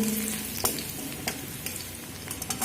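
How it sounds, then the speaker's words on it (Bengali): Chopped garlic fries in a pan of oil, a soft, steady sizzle broken by a few sharp spatula taps and scrapes against the pan. "রসুনটা একটু ভাজা হতে দেব"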